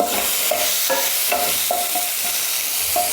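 Ginger and a green chili frying with mixed vegetables in a pan, a steady close sizzle with spoon stirring scrapes recurring every half second or so throughout.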